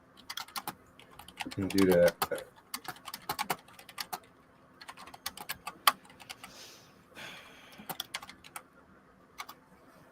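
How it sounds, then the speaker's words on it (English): Rapid bursts of clicking keystrokes on a computer keyboard, close and fairly loud, come in uneven runs throughout, with a person speaking briefly near the start. "Oh, is my typing really loud?"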